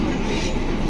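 Delhi Metro train in motion heard from inside the carriage, a loud steady rumbling roar with constant low drone and hiss, no clear voices.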